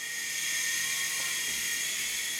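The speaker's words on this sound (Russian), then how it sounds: "Включаем пульт, включаем вертолет." A steady high-pitched mechanical whine drones without a break from a small toy radio-controlled helicopter's electric rotor spinning close by.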